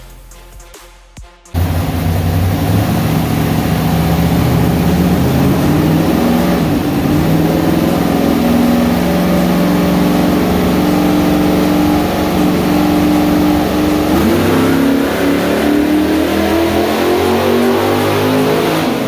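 A Pontiac 301 V8 in a 1968 Firebird racecar roars to life on a dyno after a brief quiet moment, then holds a loud, sustained high-rpm wail that climbs and shifts pitch toward the end.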